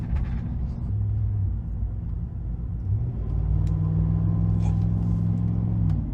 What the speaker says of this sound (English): Just a good old-fashioned downshift right there.